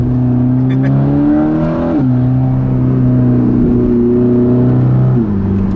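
An 850-horsepower Mercedes-AMG GT Black Series engine and exhaust roar loudly and steadily from close by, the pitch climbing then dropping at gear changes around two and five seconds, with no talking.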